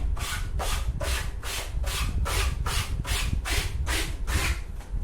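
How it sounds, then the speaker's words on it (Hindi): A balloon rubbed briskly in a classroom static-charge demonstration, about eleven rhythmic close rubbing strokes in a steady back-and-forth pattern, no talk. "तो ये बैलून जो है मैं इसको रब करा रहा हूं।"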